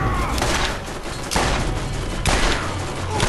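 Dense, continuous gunfire from the Borderlands video game: overlapping rapid shots and bursts roll on without pause, loud and close, with sharper volleys near the middle and end.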